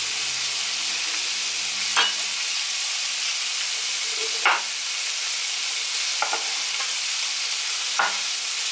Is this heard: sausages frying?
yes